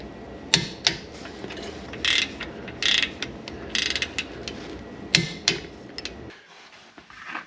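A torque wrench tightens the rear brake caliper bolts on a Porsche 944, giving a series of sharp metallic ratchet clicks and clunks in irregular bursts, close up. A quiet pause follows at the end.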